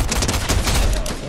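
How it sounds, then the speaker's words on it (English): A brief, loud burst of rapid gunfire from the video game Fortnite, dense and booming for a second or so. "Somebody else shooting at me."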